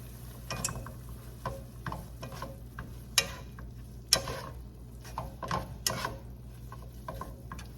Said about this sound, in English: So now I want to add the au jus packet and mix that in.